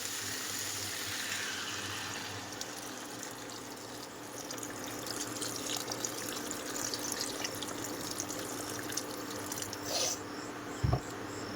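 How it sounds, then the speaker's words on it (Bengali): Water pours into a curry pot of papaya and fish while cooking, a continuous close splashing, gurgling wash that runs the whole time with a brief knock near the end. "এবারে জল দিয়ে দেবো।"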